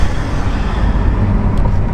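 A Bugatti Chiron driving at low throttle produces a loud, steady, close engine rumble with road noise and no voices.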